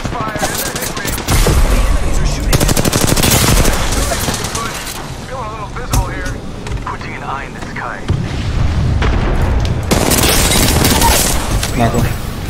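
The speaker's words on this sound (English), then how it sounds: "Shots fired!" Gunfire in the video game Apex Legends, including shotgun blasts: dense, loud bursts of rapid shots and booms that keep going almost without pause, with brief lulls between volleys.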